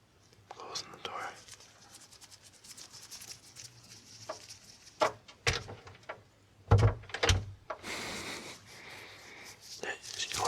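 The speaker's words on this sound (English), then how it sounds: "Closing the door." An indoor door closes, with a few sharp knocks and thumps in the second half, preceded by soft breathy whispering and faint handling noises.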